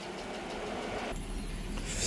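A car engine idles steadily and smoothly after earlier shaking at idle, a continuous low rumble heard close up, with a faint broadband hum that swells slightly louder near the end.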